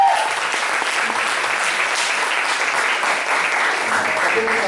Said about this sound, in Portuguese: vocês podem dar uma salva de palmas?